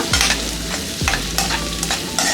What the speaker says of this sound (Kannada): ಈಗ ಇದನ್ನ ಲೈಟಾಗಿ ಫ್ರೈ ಮಾಡ್ಕೊಳ್ಳೋಣ